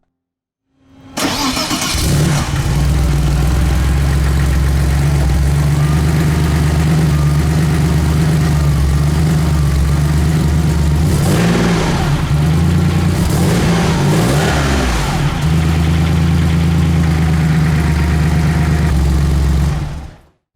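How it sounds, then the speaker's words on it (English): A 1988 Porsche 959 Sport engine cranks and catches, then settles into a deep, steady idle that rumbles on with a couple of brief blips of revving. "Before we hear the car fire into life, we can view the subtle diffuser below."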